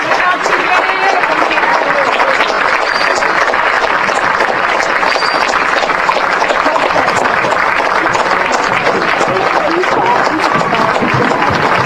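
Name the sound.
football crowd applause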